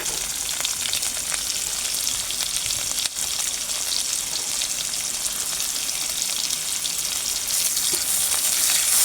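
Finely sliced onion frying in hot oil with black cumin seeds, giving a dense, loud, continuous crackling sizzle close by that holds steady throughout, no talking.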